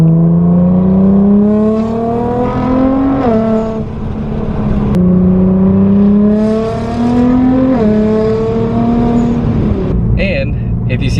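A Nissan GT-R R35 fitted with an Fi exhaust pulls hard in two long accelerating runs, the engine note climbing through gears with brief breaks between, loud and close from inside, with blow-off valve chatter near the end.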